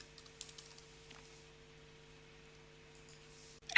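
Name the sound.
typing a password on a computer keyboard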